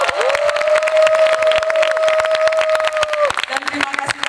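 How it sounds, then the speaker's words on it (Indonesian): An audience at the 13th anniversary celebration of the Mata Najwa program claps for the special host, dense steady applause from a crowd, with a sustained tone and a voice cutting through. "Boleh saya minta tepuk tangan untuk host spesial malam hari ini?"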